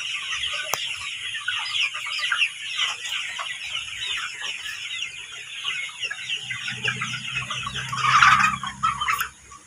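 Dense flock of broiler cockerels on a poultry farm, a continuous chorus of overlapping clucks and chirps with a louder, closer burst of squawking near the end.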